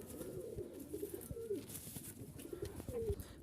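Giribaz pigeon from a Rajshahi pigeon breeder cooing in short repeated throaty phrases, close and fairly clear over a low background murmur.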